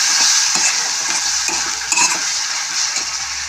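Ginger-garlic and onion paste fries in a pan with bay leaves, a loud steady sizzle broken by repeated scraping strokes of a spatula stirring it, with no talk.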